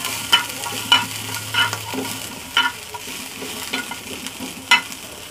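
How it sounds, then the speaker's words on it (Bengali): Shrimp frying in oil in a pan over medium heat, a steady close sizzle broken by sharp periodic clinks and scrapes of a stirring utensil against the pan, with no talking. "এখন সে একই তেলে আমি চিংড়ি মাছগুলো ছেড়ে দিচ্ছি। চুলাটা মিডিয়াম করে ভাজতে হবে।"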